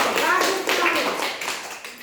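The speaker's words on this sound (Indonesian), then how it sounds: "Kita kasih tepuk tangan dulu untuk kelompok ini." Sixth-grade pupils in an elementary classroom clap for a student group, a quick, steady burst of many small hands at close range, with some voices mixed in underneath.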